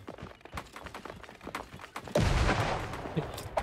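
Gunfire in the video game Creative Destruction during a 25v25 match: scattered distant shots crackle at first, then a loud close burst erupts and rings out.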